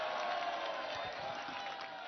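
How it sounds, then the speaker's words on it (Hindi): Studio audience applause welcoming an NCP Ajit Pawar faction spokesperson onto a televised political debate show, a steady, dense wash of clapping that holds at an even level throughout, with no voices over it. "तालियों के साथ स्वागत कीजिए।"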